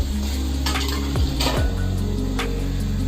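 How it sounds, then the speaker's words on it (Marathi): A lid set on a pot of tomato and onion cooking down, with sizzling beneath and a few metallic clinks and scrapes of cookware close by, no talking. "मी झाकण ठेवते शिजण्यासाठी म्हणजे पटकन शिजेल"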